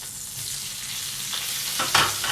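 Asparagus frying in a pan on an electric stove, a steady close sizzle with a short louder hiss and stirring clatter toward the end.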